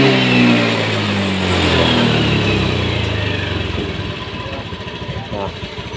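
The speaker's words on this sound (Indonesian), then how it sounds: "Nah, sekarang kita tarik gas." A motorcycle engine being worked on for a throttle position sensor fault revs up as the throttle is opened, loud and close, then settles into a rougher idle.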